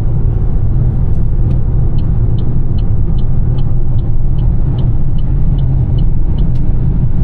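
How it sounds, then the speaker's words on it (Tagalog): Steady, loud engine and tyre rumble from inside a vehicle cruising on a very smooth highway between Barcelona and France, with a faint rhythmic ticking of a turn signal partway through and no talking. "Talagang smooth na smooth yung takbo dahil nga yung kalsada pinong-pino"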